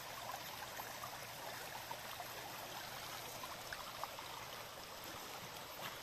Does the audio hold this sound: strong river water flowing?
yes